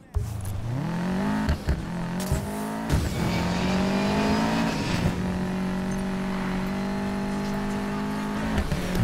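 A car driving in the racing video game Need for Speed Payback, its engine droning steadily and rising in pitch as it accelerates, with a few brief knocks and bumps along the way.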